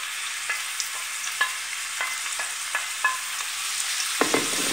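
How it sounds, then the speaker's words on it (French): Cleaned pink shrimp sizzle in olive oil in a non-stick pan, a steady close hiss dotted with small crackles and light taps of a utensil, with a louder scrape near the end. "j'ai mis de l'huile d'olive sur le feu dans une poêle anti-adhésive. Je rajoute les crevettes nettoyées"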